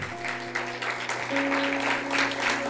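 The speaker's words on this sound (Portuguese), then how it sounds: "Aplauda ao Senhor." A church congregation claps for the Lord during a sermon, a soft steady wash of hands clapping together over a sustained organ or keyboard drone.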